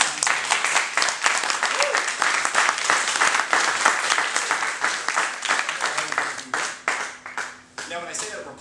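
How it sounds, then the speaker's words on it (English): Applause from a conference audience of the American Freedom Party, dense steady clapping for several seconds that thins out toward the end, with a voice speaking over the final moments. "So I really appreciate that applause."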